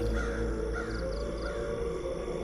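A crow caws several times, short harsh calls at a moderate distance over a steady, noisy outdoor background.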